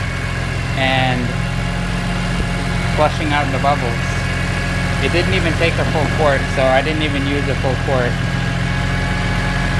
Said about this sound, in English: So I just have it idling, turning the steering wheel side to side